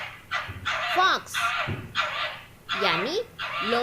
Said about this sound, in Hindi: फॉक्स